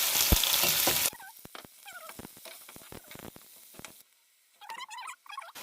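Onions dropped into hot oil and frying, a loud burst of sizzling at first that settles into quieter crackles and pops, then fades before light stirring clicks return.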